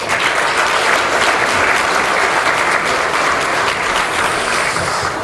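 Loud, dense audience applause in a church gathering welcoming a guest speaker to the stage, continuous clapping that stays full and even for several seconds.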